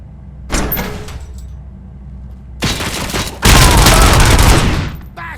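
Gunfire in RoboCop: Rogue City, with a short burst of shots followed by heavier, dense rapid fire that grows loud and close, separated by brief quieter gaps.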